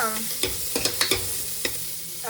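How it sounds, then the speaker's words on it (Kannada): Tomatoes frying in a pan, a soft continuous sizzle broken by several sharp spoon or spatula scrapes and taps against the pan as they are stirred. "ಟೊಮೊಟೊ ಎಲ್ಲ ಆಲ್ಮೋಸ್ಟ್ ಫ್ರೈ ಆಗಿದೆ"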